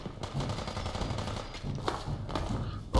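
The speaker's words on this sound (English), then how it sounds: "Are they shooting through the floor?" Rapid automatic gunfire from a modded survival game (Outcasts and Remnants), several loud bursts in quick succession, fairly close and harsh, with no one speaking.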